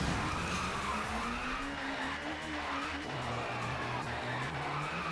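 A touring car's engine drones steadily at low revs in TOCA Touring Car Championship on PS1, its pitch wavering and shifting slightly as it backs up, with faint tyre noise underneath.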